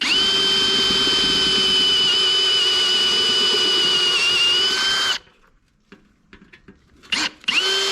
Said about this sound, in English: Just going through now and drilling me out some plug weld holes